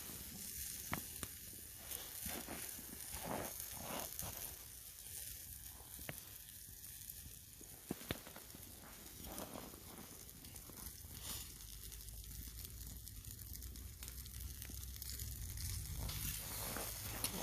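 Fat from marinated meat spits and sizzles over a campfire with fresh coals, a steady crackling hiss punctuated by sharp pops and brief flare-ups, heard close and alone without talk.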